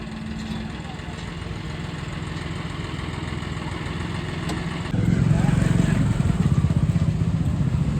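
A diesel tractor engine chugs steadily nearby, growing louder and rougher partway through as it revs up, with faint voices in the background.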